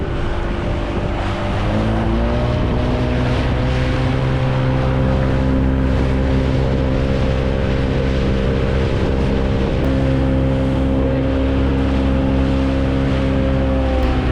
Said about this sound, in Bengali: আমরা যাত্রা করছি এখন এই 6 নম্বর ঘাট থেকে স্পিডবোটে যাচ্ছি হচ্ছে মহেশখালী